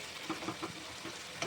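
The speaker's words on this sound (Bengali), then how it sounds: "তো মাংসটা আমি বেশ কিছুক্ষণ ধরে কষাবো।" Mutton fries gently in oil in a pan for a Bengali kasha, a soft steady sizzle with a few light scrapes and clicks as the meat is stirred.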